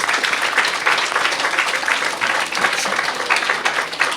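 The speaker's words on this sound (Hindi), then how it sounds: "अभी ताली तो बजा ली" Schoolchildren at a student gathering in Kathmandu, Nepal clap together in steady, dense applause that stays loud and close throughout.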